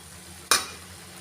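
A single soft scrape-and-swish of grated coconut stirred into a bottle gourd mixture in a pan, brief and close, followed by a faint sizzling hiss that fades.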